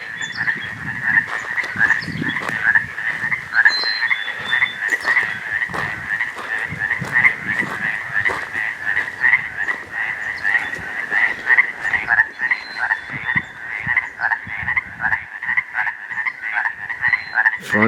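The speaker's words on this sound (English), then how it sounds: "Frog sounds like he's on that log" A frog croaks near a log at an Eastern Sierra backpacking trail camp, a rapid, steady run of loud, close, rhythmic calls repeating continuously without pause, with no talking.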